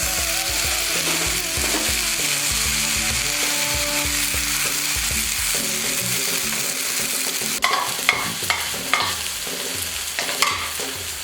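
A green chilli and pea paste fries in a pan for kachuri filling, with rhythmic spatula scraping and stirring over a low sizzle, close and steady, then sharper clatters near the end; no one speaks.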